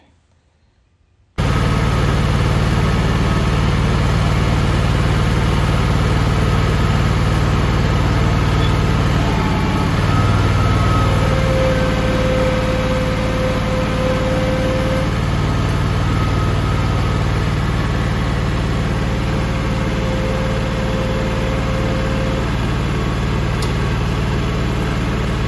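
The motor of a John Deere X739 lawn tractor starts up and then runs at a steady idle, a loud, continuous low rumble with a faint high whine, persisting unchanged for over twenty seconds.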